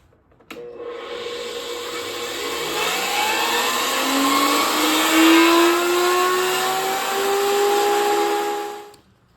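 Power saw cutting wood fed backwards across a table during a catboat restoration, a steady loud whining drone with rising pitch as the blade bites, running continuously for several seconds before cutting off abruptly.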